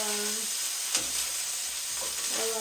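Broccoli sautéing in garlic butter in a pan gives a steady, close sizzle with occasional stirring scrapes and a few brief voice fragments over it.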